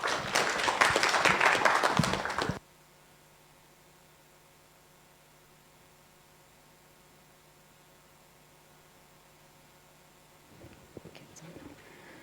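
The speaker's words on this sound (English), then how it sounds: "Let's welcome her with a clap." A meeting audience in Kenya claps to welcome a speaker from the Friedrich Naumann Foundation, a dense burst of applause that cuts off abruptly, followed by long near-silence with faint hum and light rustling.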